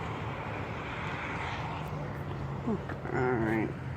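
A fixed-wing airplane passes overhead as a steady low engine drone, fairly distant and not very loud, while people talk nearby over it.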